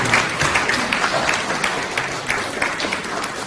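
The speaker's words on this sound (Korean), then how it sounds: "박수 부탁드립니다" Audience applause at a Korean literary award ceremony and poetry reading, a full even wash of many hands clapping at steady loudness from start to finish.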